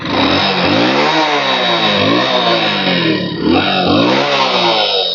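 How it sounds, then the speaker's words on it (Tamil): A used vehicle's engine idles and revs nearby, with a loud, steady mid-pitched motor drone that rises and falls in several rev surges. "இன்ஜின் கண்டிஷனை பாத்துக்கோங்கண்ணே"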